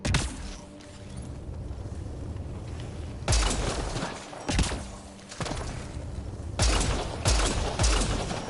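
Bursts of gunfire ring out at intervals amid a low, rumbling ambient background, with three louder volleys punctuating a steadier murmur of distant shooting and mechanical noise.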